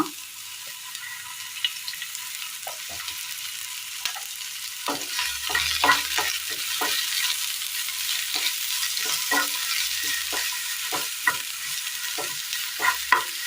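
Ingredients sautéing in a little oil in a pan for a Kerala curry, a steady hissing sizzle broken by frequent scraping and tapping strokes of a spoon as the mixture is stirred.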